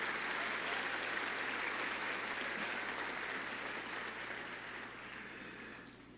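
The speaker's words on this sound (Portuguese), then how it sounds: "Dê um aplauso bem forte a Ele." A church congregation claps together in sustained applause that gradually fades toward the end, filling the room with dense, even clapping.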